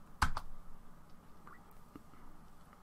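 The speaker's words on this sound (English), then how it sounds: "If I just type in aptitude and press enter" Brief burst of computer keyboard typing as a command is entered, with a sharp keypress near the start followed by a few lighter, scattered clicks in a quiet room.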